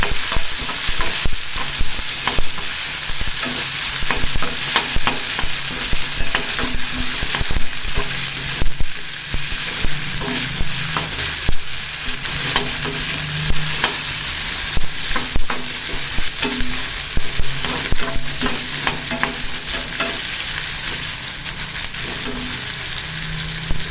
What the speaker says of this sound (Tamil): கூடவே கொஞ்சமாக கருவேப்பிலை சேர்த்துட்டு நல்லா வதக்கிக்கலாம்